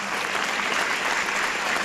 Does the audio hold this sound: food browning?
no